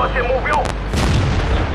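Artillery fire in World of Tanks, a tank battle game, with a heavy booming shot and rumbling impact over steady battlefield noise, while someone talks over it.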